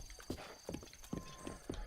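Horse hooves clip-clop at a steady walking pace in The Legend of Zelda: Breath of the Wild, five evenly spaced hoofbeats close and clear over a soft outdoor ambience.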